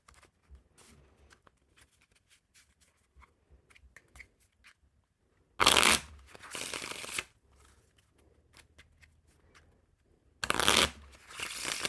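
A deck of Smoke & Mirrors playing cards is fanned twice, each time a quick loud riffling flutter of cards rising out of near silence, with faint handling noises between.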